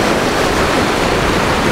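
Rough ocean waves break and splash close by in a loud, unbroken rush of churning water, heard alone without any talking.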